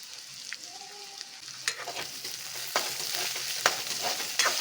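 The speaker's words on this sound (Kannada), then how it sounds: "ಈರುಳ್ಳಿ ಸ್ವಲ್ಪ ಕೆಂಪು ಫ್ರೈ ಮಾಡ್ಕೊಳ್ಳೋಣ. ಇದ್ರ ಜೊತೆಗೆ ಮೂಲಂಗಿ ಕೂಡ ಹಾಕ್ಕೊಂಡ್ಬಿಡ್ತಾ ಇದ್ದೀನಿ" Onion and radish fry together in a pan while being stirred. A constant low sizzle sits under repeated spatula scrapes and taps that grow more frequent toward the end.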